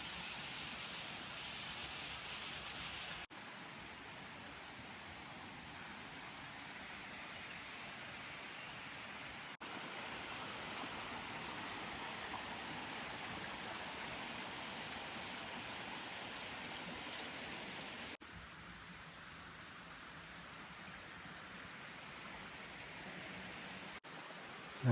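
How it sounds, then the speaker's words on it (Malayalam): A small stream flows on the Brahmagiri trek in Wayanad's hills, a steady broadband rush of water that continues without pause for the whole stretch, fairly close and unbroken by talk. "അരുവിയൊക്കെ ഒഴുകുന്നു."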